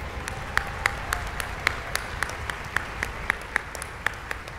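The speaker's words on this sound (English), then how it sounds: "I want to give a round of applause to this small team that helps to pull this event off" An audience at a high school music festival in Philadelphia claps for the small backstage team behind the event, a moderately distant, even wash of applause with a few sharper individual claps standing out.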